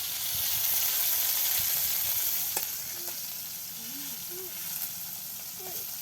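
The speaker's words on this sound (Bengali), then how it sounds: "হ্যাঁ, হয়ে গেছে মাছ ভাজি" Pangas fish frying in a pan, a loud, bright, continuous sizzle that eases slightly after a sharp clack, with a few brief voice sounds near the end.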